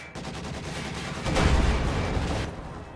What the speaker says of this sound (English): AT gun firing